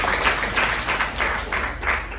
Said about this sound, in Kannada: ಹ್ಯೂಜ್ ರೌಂಡ್ ಆಫ್ ಅಪ್ಲಾಸ್, ಚಪ್ಪಾಳೆ ಮುಖಾಂತರ ಅವರಿಗೆ ಅಭಿನಂದನೆ